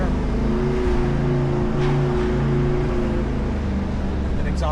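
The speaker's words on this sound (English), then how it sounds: "And exhaust is just sweet." A Jeep Rubicon's engine and exhaust rumble steadily at low revs as it crawls up a steep, roughly 23-foot, 40-degree hill, a loud, close, continuous drone with faint outdoor noise.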